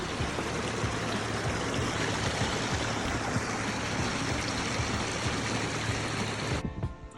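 Water pours steadily down a koi pond waterfall outdoors, a continuous broadband rush that fills the scene evenly and stays loud, cutting off abruptly near the end.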